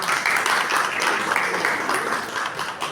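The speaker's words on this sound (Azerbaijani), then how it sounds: "Xaçmazdan gələn Akif müəllim alqışlar Akif bəy üçün." Audience applause for Akif, a guest from Khachmaz, at a gathering, steady dense clapping throughout at moderate level with faint voices mixed in.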